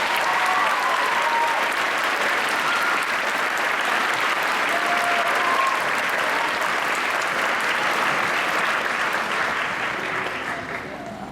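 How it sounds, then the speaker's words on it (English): A crowd at an eighth grade graduation ceremony gives a long, loud round of applause for a group of students, steady and dense before easing off slightly at the very end. "Please give them a round of applause."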